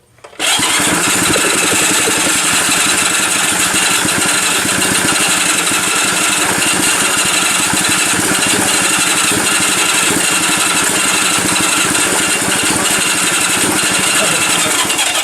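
Small Honda engine sputtering and running roughly, loud and close, a continuous ragged mechanical roar that never settles into a steady idle.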